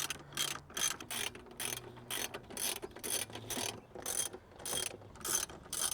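A ratchet with a 10 mm socket backs bolts out of trim on a 2022+ Subaru WRX, giving fast bursts of close, crisp pawl clicks in an irregular rhythm with short pauses between strokes, no talk.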